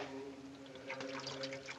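Antiseptic pours from a bottle over a pair of hands, a faint close trickle and splash of liquid against a steady low hum in an old film soundtrack.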